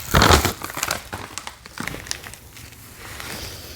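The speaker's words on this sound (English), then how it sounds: "And I'm just breaking up all the dirt here" Potting soil is broken up by hand, giving crackly, crumbly rustling in uneven bursts, loudest at the start and then softer, close up with no speech.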